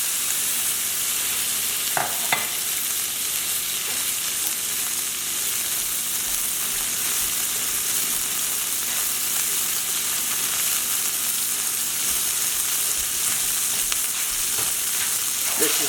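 A whisk stirs brown sugar into a hot pecan pie filling mixture in a pan, giving continuous soft sizzling with a few sharp scraping clicks from the utensil against the pan. No one speaks.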